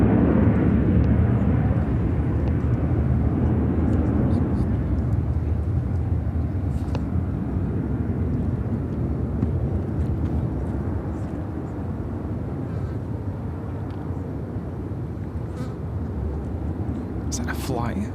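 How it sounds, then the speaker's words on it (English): A Spirit Airlines Airbus A321 takes off from Chicago O'Hare, its jet engines a sustained, fairly loud rumble that slowly fades, with people talking faintly at times over it. "This is Spirit Airlines 771 taking off to Newark on the"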